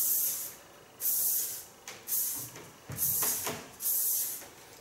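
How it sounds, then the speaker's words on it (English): Lakme hard-hold hairspray sprays in five short, evenly spaced hissing bursts, each about half a second long, close by with quiet pauses between them. "They have a hard hairspray."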